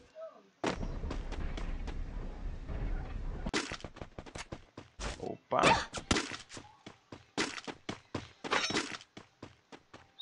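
Rapid bursts of gunfire and explosive artillery-like booms from a Brazilian online shooter game, repeated sharp shots throughout with a brief voice speaking over them.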